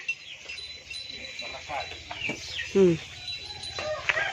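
Chickens cluck softly in a farmyard, with a louder burst of clucking partway through, over faint background noise and occasional distant voices.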